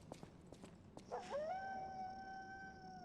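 A wolf howl from the video game Lies of P, heard in the Krat Zoo: a single long, rising then held tonal howl with a faint harmonic echo, following a few soft footstep-like taps, heard alone.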